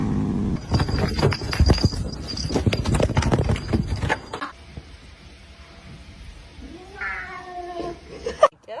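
A pet cat lets out a short, clear meow near the end, following a loud stretch of rustling and clattering activity, then a quieter lull before the call.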